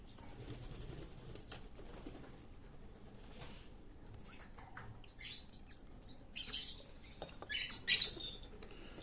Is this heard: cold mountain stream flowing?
no